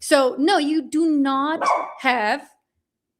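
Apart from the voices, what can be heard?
dog barking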